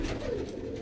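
A pigeon gives a brief, low, throaty coo, close and moderately loud against a busy outdoor rooftop loft background.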